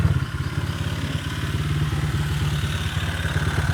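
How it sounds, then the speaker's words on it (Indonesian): A Honda Vario scooter engine, serviced for overheating, has just been started and idles close by with a steady, rough, clattering chug throughout. "ini motornya langsung aja kita coba nyalain"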